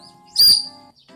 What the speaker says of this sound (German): So einen grünen Vogel. Wenn du dort Wasser reintust, dann zwitschert der, wenn du reinpustest.